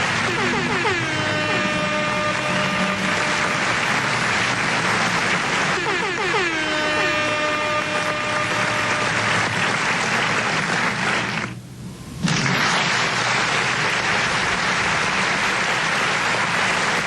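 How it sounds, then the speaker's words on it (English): A crowd at Carina Speedway applauds steadily and loudly after a junior sedans final. Two long air-horn blasts sound over the clapping, and the noise drops briefly before resuming. "Give him a round of applause as he comes by."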